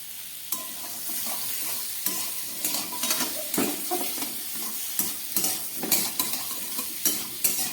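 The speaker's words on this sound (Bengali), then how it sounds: "আদা আর ক্যাপসিকামের সঙ্গে খুব ভালো করে আমি আলুগুলোকে ভেজে নিচ্ছি।" Boiled potatoes fried with grated ginger, capsicum, tomato and green chilli, stirred with a utensil: repeated scraping and clinking strokes over a steady sizzle, close and fairly loud, with no talking.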